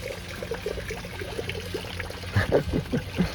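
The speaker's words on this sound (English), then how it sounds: "This is that little pump rig that Mighty Magnet's got" A small pump rig pushes water through a smooth-water sluice header, giving a steady close trickling and pouring wash with a few louder splashy surges near the end; no one talks.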